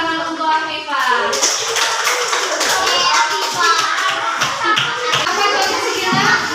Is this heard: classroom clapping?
yes